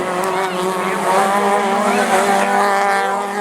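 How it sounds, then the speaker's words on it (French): Division 4 rallycross race car at Lessay braking hard into a corner, engine note falling and tires skidding and squealing, loud and close, with a commentator talking over it. "le freinage de Mercier, là, superbe"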